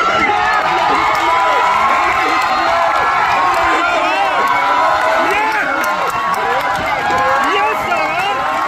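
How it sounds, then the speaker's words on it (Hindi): A large crowd at a Nepali kushti wrestling bout claps and cheers in a dense, steady roar that fills the whole stretch, with an announcer's voice mixed into the din. "ताली मारो जोरदार की"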